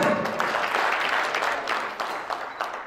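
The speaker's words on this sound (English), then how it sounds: "Let's give a round of applause" An audience at a live-streamed ceremony gives a round of applause, a dense wash of clapping that carries on for a few seconds before tapering slightly.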